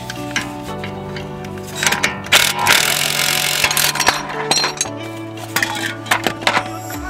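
An impact wrench drives a ball joint puller on a car steering knuckle, giving short bursts of rattling hammering with metallic clinks and ticks in between, close and fairly loud.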